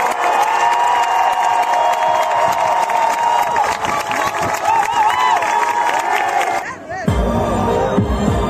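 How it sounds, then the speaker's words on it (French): A large outdoor crowd on the Nice seafront applauds and cheers loudly for Stéphane during the Olympic torch relay, with dense, sustained clapping and shouts that cut off sharply near the end. "on aimerait passer 10 secondes d'applaudissements, mais 10 secondes intenses que le public y soit, souhaite te l'offrir"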